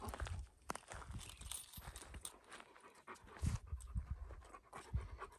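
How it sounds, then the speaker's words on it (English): Large dogs panting rapidly at a dispersed campsite near Lincoln, New Mexico, close and fairly faint, with footsteps and shuffling mixed in. "You're like the biggest dogs I have seen."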